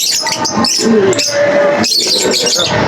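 Racing pigeons arriving one by one during a first sprint training race in Sariaya, Quezon, with scattered bird calls and squawks over steady outdoor noise, no talking.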